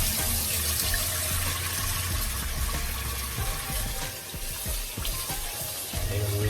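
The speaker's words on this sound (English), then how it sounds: "you want to make sure you rinse your rice underneath some cold water" Rice rinsed under cold running tap water, with a steady splashing stream and irregular sloshes and clinks as the grains are stirred in the bowl.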